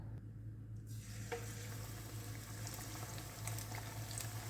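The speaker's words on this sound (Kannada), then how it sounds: "ಇದನ್ನ ಈಗ ಡೀಪ್ ಫ್ರೈ ಮಾಡ್ಕೊಬೇಕು." Marinated chicken drumsticks deep-fry in hot oil, giving off a soft, steady bubbling sizzle with occasional crackles over a low background hum.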